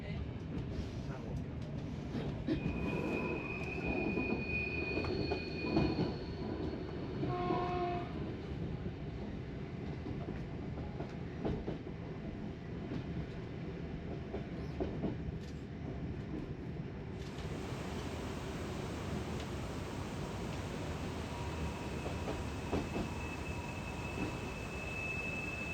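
A Flam Railway train runs on its tracks in Norway, giving a steady rolling rumble with faint rail clatter and occasional higher squeals, continuous at moderate level for the whole stretch.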